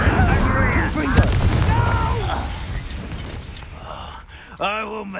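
Spell blasts from Incendio and Confringo in Hogwarts Legacy, heard as bursts and crackling impacts amid game effects, with a character's voice speaking over parts of the clip.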